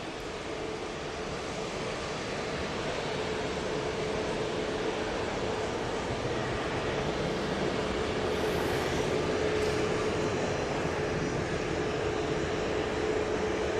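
An Airbus A321neo jet takes off from Manchester Airport bound for Corfu, a steady broadband engine roar heard from a distance that holds throughout with no talk.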